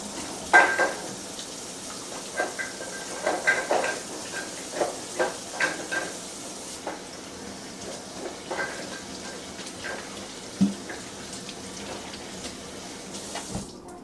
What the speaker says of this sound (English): I'm just going to mix that season on in here